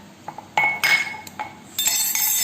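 A spoon clinks against a mug several times, bright metallic taps and rattles, close and fairly loud, ending in a longer ringing scrape, with no voices.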